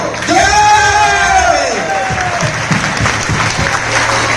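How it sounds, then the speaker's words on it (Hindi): Seminar crowd in Rohtak claps loudly and cheers for Sanjeev Farmana, with rising whoops and shouts over dense applause at the start, then sustained clapping continuing as the cheering fades. "आप सबकी जोरदार तालियों के बीच संजीव जी फरमाना।"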